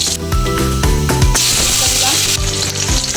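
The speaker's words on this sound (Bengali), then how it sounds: "কড়াতে আমি সর্ষের তেল দিয়েছি, তেল গরম হয়ে গেছে। এবার মধ্যে কালো জিরে দিচ্ছি।" Nigella seeds hitting hot mustard oil in a wok give a loud crackling sizzle, with sharp metallic clatters and spatters over the steady fry.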